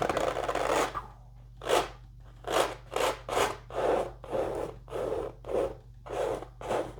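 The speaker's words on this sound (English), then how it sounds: "I'm going to scrape some of that off" Palette knife scraping wet oil paint off a canvas, a close series of about nine short rasping strokes in an uneven rhythm, heard alone without talk.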